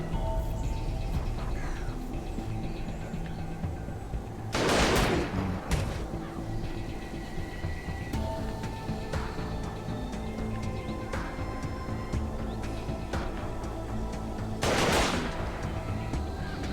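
Rifle shots in the video game Dead Age 2, two sharp loud bursts spaced about ten seconds apart over a low steady ambient background with faint crow-like calls.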